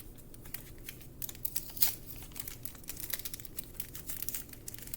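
A sterile swab pack being peeled open for environmental sampling gives close, soft crinkling of plastic and paper wrapper, with light ticks and a brief sharper rip mid-way.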